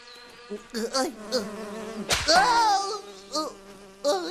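A buzzing bee in a cartoon drones in short bursts, rising and falling in pitch as it darts close by, with music and scattered voices around it.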